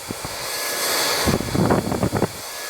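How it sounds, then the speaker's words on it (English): A handheld hairdryer blows a steady, close airflow during a blow dry, swelling partway through, while a person talks over it. "just pull up, put the hairdryer in"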